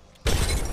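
An enemy shield cracks in Apex Legends gunplay, a sudden loud shattering burst that hits after a quiet lead-in and sustains as a bright, crunchy break.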